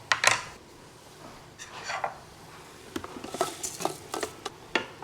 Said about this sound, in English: now we're going to chuck in the rice